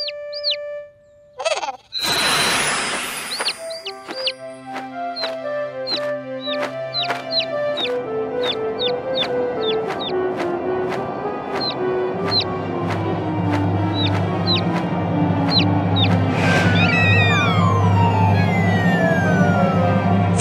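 Cartoon bird clucking in a kids' Halloween cartoon: sharp repeated clucks and chirps over a bright, busy musical score that keeps building and grows louder toward the end, with no speech.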